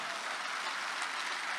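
A mushaira audience claps in a steady, dense wash of applause that holds evenly throughout at a moderate, slightly distant level, with no voices rising above it.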